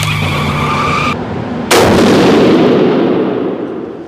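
Rifle firing Hornady Precision Hunter ammunition downrange at a shooting range: one loud, sharp report with a long rolling echo, close and alone, after a steady outdoor hum.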